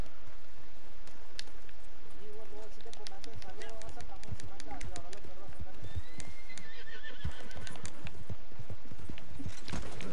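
Horse hooves clip-clop in the Red Dead video game, with a loud whinny and several quick hoof strikes toward the end, while people talk over the game sounds.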